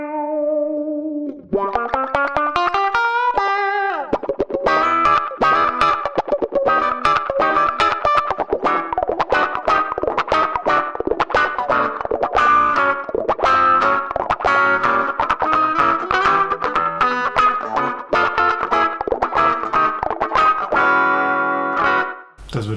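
A distorted electric guitar tone from the Neural DSP Archetype plugin's Filth Bucket preset plays loud and alone, opening with bending notes and then running into a busy, continuous riff of clipped chords and single notes.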